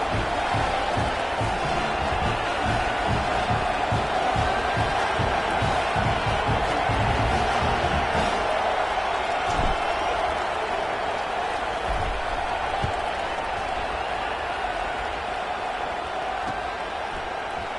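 A football stadium crowd at a college game fills the air with a steady, broad roar and murmur, with scattered claps and faint whoops rising through it, continuous and moderately loud from start to finish.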